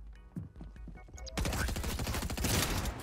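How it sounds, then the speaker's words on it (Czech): Rapid bursts of gunfire in the video game Fortnite crackle loud and dense, starting suddenly partway through after a few softer thuds and continuing without pause to the end. "A někdo po nás střílí."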